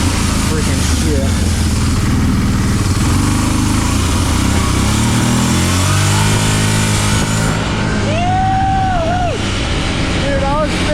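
A Brute Force 650 ATV engine roars loud and close, a continuous throaty drone that holds steady throughout with slight shifts in pitch.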